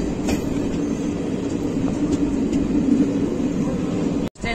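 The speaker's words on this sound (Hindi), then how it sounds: "ट्रेन में बैठे हुए हैं" Inside a moving passenger train in India, carrying riders from Sultanganj station: a steady, loud rolling rumble and rattle that fills the whole clip before a brief drop-out near the end.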